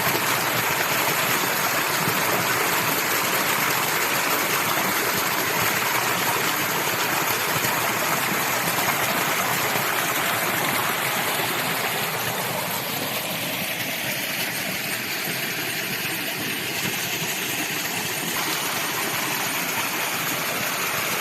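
Steady broadband rush of a village stream and waterfall flowing, continuous and fairly loud for the whole stretch, with the tone thinning slightly partway through; no voices.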